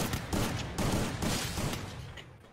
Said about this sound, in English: what a headshot from Chokri or Chorki